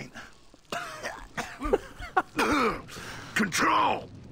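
A character in the video game Gears of War 2 coughs and groans in a string of harsh, strained, wet hacks and gasps, close and fairly quiet amid game sound.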